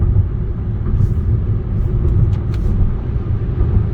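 Mitsubishi Eclipse Cross car driving on dark streets at night, heard from inside as a steady low road and engine rumble with a few faint clicks.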